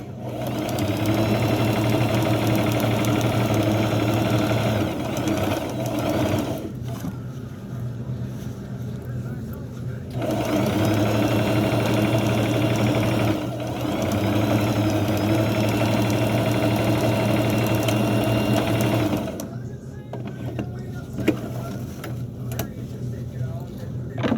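A sewing machine stitches around lace trim on bassinet fabric, running in long steady bursts with short pauses between them, loud and close with a constant mechanical hum.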